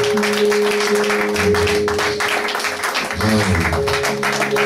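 A church congregation at a Sunday worship service claps together, a steady wash of hand claps over sustained organ-like music and raised voices, loud and continuous throughout.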